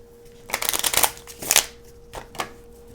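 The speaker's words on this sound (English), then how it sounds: "So I'm going to shuffle up, show you how a round goes." Magic: The Gathering cards are shuffled in a few quick riffling bursts, close and crisp, with short pauses between them.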